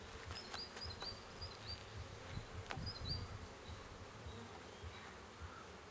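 Honeybees buzzing during a hive check, a low, steady drone near the listener with a few louder passes as single bees fly close, and no talk.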